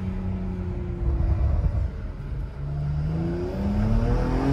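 Porsche Macan Turbo engine accelerating at light throttle, a steady deep rumble with rising harmonic sweeps as revs build twice, close and fairly loud with no talk.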